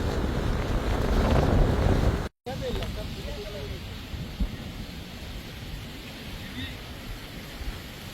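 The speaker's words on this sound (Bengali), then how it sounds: "ঢেউ জোয়ার মতো খেলা দেখতেছিলাম আমরা।" Evening sea waves wash in at the Saint Martin jetty ghat while strong wind buffets the microphone in a continuous roar, with surf churning throughout and a brief dropout partway through.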